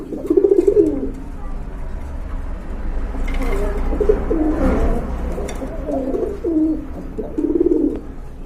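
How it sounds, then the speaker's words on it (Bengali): Pigeons cooing inside a pigeon shop, a series of soft, throaty coos repeating in short bursts close by, with someone talking and low background hum underneath. "এখানে কিন্তু এক জায়গায় কবুতর দেখতে পারতেছেন"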